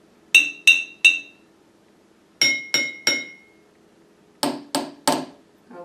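Three groups of three bright glass clinks, a glass containing water tapped by hand, each strike ringing briefly with a clear pitched tone, alone in a quiet room.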